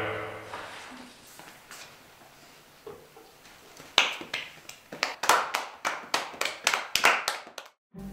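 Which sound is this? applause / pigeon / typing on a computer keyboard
applause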